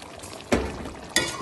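Half a glass of warm water is poured into chicken curry cooking with tomato and oil in a pan, heard as two brief close splashy pours separated by a short quiet gap.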